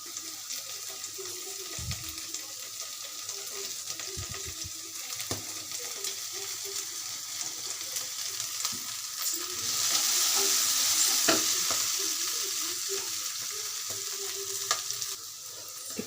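Ginger paste frying in a pan, a continuous close sizzle with repeated stirring scrapes and knocks, swelling louder near the middle, with no talking.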